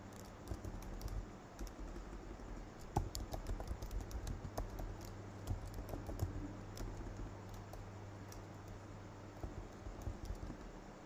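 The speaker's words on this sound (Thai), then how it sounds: "ลองพิมพ์เข้าไปใน Google นะครับ" Keyboard keys tapped in quick, irregular bursts while a search is entered into Google, fairly quiet and close against a steady low background hum, with no talking.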